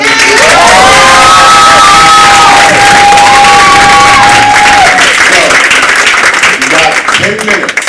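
Loud cheers and applause from a high school poetry slam audience, with long held shouts and whoops over constant clapping that stays strong throughout the stretch.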